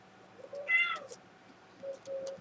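Buttercup, a pet cat, gives a clear, close meow that rises and falls, then a few softer chirps and mews in a quiet indoor room.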